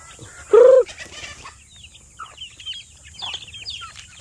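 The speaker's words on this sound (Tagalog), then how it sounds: "Ayan ang ating mga manok." A chicken lets out one loud, sharp squawk up close, followed by softer scattered clucks and chirps from a small flock.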